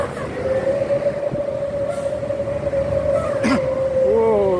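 A long, steady bus air horn whistle holds one tone for several seconds over engine rumble, then shifts to a wavering, rising pitch near the end.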